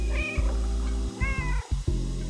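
Two bright, chirpy meows from a cat in the video game Stray, excited in tone, sound close and clear, separated by a pause, with low rumbling game sounds and thuds beneath.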